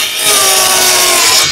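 Saw cutting through a bathroom wall panel, one continuous loud, close rasping stroke with no talk.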